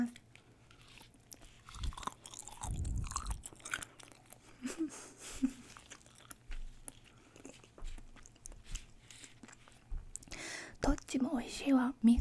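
Eating peeled crayfish caught from a river, heard as close, wet chewing and biting with small crunches and crinkles, mixed with soft whispered talk throughout.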